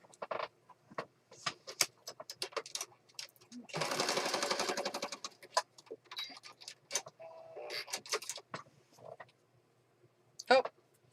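A sewing machine runs in one short, steady burst of rapid stitching amid scattered quiet clicks and handling noises, close and soft, with no speech.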